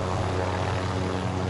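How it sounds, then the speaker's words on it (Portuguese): Steady, loud whirring rotor and engine drone of a helicopter in the Call of Duty video game, continuous and close with no voices over it. "Ele tem que pegar o helicóptero, pá!"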